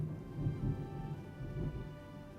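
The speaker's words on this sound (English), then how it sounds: "I don't know if y'all can hear the thunder in the background." Low, distant rumbling thunder rolls under a steady rain-like hiss in the video game Monster Hunter World, faint and continuous without a sharp crack.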